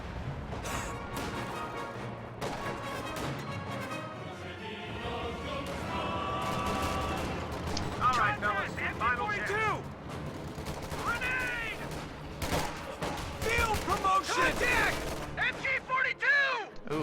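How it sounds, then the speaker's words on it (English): A war strategy video game battle plays, with bursts of machine-gun fire, crashing grenade blasts and dense battle noise. The firing is heavier in the second half, and voices talk over the action. "Ooh, that grenade looked like it would hurt."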